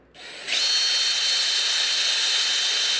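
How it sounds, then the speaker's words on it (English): A power drill with a Forstner bit spins up quickly and bores into wood with a loud, high whirring grind that holds steady after the start. "I want to start drilling the hole, making sure the bit is flat to the face of the wood"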